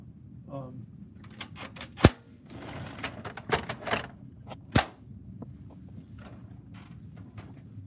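A Gestetner 260 mimeograph duplicating machine clatters with irregular mechanical clicks, taps and a couple of sharp snaps, fairly close, amid faint background talk.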